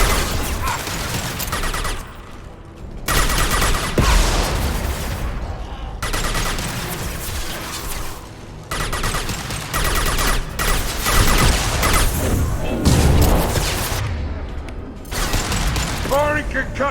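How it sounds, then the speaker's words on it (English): Repeated heavy weapon blasts from an impact shot in Mass Effect 2, loud mechanical bursts and clanking bangs recurring through a busy combat mix, with brief quieter gaps between volleys. "Firing an impact shot."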